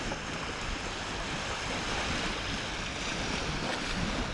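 Waves on the Volga river in Samara wash steadily ashore, a continuous broadband rush of water mixed with gusty wind noise on the microphone, with no voices heard.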